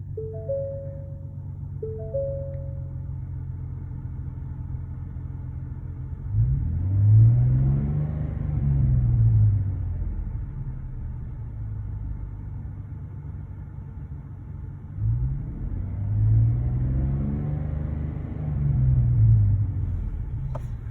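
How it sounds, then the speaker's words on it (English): A 2018 Ford F150 with the 3.3L non-turbo engine and an aftermarket muffler idles with a low exhaust rumble, then is revved twice, each rev a deep swelling roar that settles back down; a few short beeps sound early on. "I started the truck from inside so you can hear what it sounds like."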